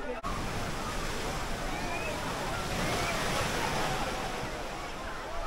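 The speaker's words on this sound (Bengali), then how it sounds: "আর যা দেখছি ভালোই ঢেউ রয়েছে এই মুহূর্তে" Constant roaring wash of sea waves breaking on Digha beach in winter, broad and steady, with faint crowd chatter mixed into the surf.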